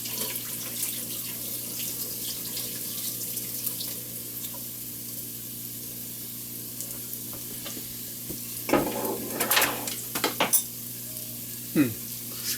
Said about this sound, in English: And rinse them. And drain them again.